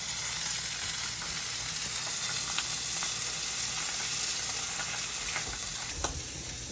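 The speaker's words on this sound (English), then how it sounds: "Roast the onions on." Onions sizzle in a skillet at an outdoor camp cook-out by a mountain lake, a steady close hiss of frying with a few faint clinks and a brief knock near the end.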